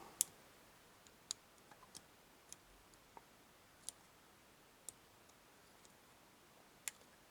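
Faint, sharp pin clicks sound at irregular intervals, about a dozen over several seconds, as a Tesa T10 ten-pin dimple lock is single-pin picked in a quiet room.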